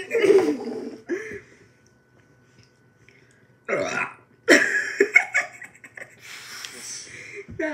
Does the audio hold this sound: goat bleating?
no